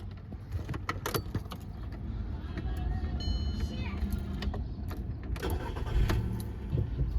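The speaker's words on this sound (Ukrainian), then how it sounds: "Заводиться автомобіль з півоберту." A Volkswagen Golf Plus with about 224 thousand on the clock cranks and catches quickly after keys jingle, settling into a close idle amid car-interior clicks and faint voices.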